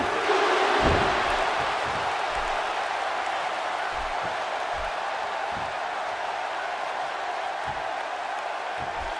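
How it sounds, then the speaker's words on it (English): A large arena crowd roars in a WWE wrestling video game during a Dean Ambrose versus AJ Styles championship match, a loud, steady wash of cheering that holds throughout with faint thuds underneath. "by the sound of this crowd, I think they're getting what they wanted"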